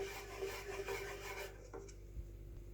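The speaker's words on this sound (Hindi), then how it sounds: "विस्क को चलाते रहेंगे ताकि इसमें गुठलियां ना बने।" A whisk stirs flour cooking in butter in a pan for a white sauce, giving a faint, continuous scraping and swishing for about a second and a half before stopping.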